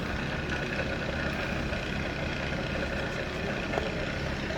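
A 24-inch Arboga Maskiner E830 geared drill press idling along in low gear, giving an even, low mechanical drone that holds steady throughout, with a faint click or two and nobody speaking.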